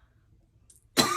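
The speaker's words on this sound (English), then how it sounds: "I'm coughing like a smoker" One sharp, close human cough bursting out abruptly after a stretch of near silence.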